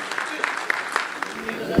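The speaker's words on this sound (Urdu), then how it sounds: "ایک بار استقبال کیجئے ان کا زوردار تالیوں سے" Audience at an Urdu poetry mushaira in India clapping in a steady, dense burst of applause that carries through, with a voice briefly heard near the end.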